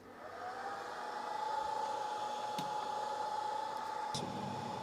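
A hot-air rework station's heater blows steadily while reflowing a chip on a Vizio P502UI-B1E 4K TV board, a close, even hiss and whir with a faint high whine, and brief clicks near the end.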